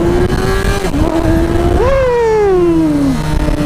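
A motorcycle engine revs hard as the rider pulls a small wheelie, pitch climbing then sliding back down, loud and close with constant wind rush.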